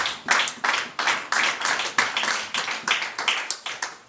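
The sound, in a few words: church congregation clapping to acclaim Jesus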